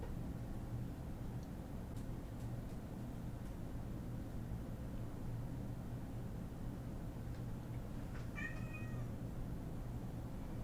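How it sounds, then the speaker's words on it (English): A house cat lets out one short meow near the end, faint against a steady low background hum that runs through the whole stretch. "there's my cat"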